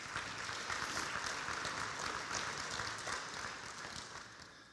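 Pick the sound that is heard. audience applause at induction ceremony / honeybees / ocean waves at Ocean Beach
audience applause at induction ceremony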